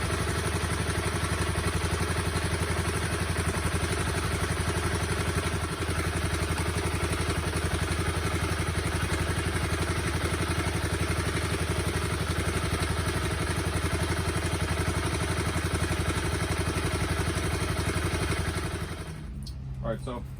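A Honda CBR250R motorcycle engine idles steadily to warm up after an oil, coolant and brake fluid change, a continuous close, loud rumbling drone with light mechanical clatter that cuts off near the end.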